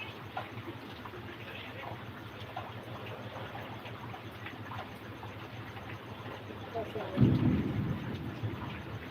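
Heavy monsoon rain pours steadily with a deep roll of thunder rising near the end; faint voices sit under the downpour.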